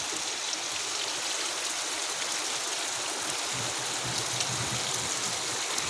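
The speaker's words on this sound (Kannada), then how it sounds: "ಇನ್ನೂ ಮಳೆ ಬರ್ತಾ ಇರೋದ್ರಿಂದ ಮೋಡ ಆಗಿರೋದ್ರಿಂದ" The season's first rain falls steadily over a village sweet potato field at dusk, a dense, continuous hiss of drops that stays close and even throughout.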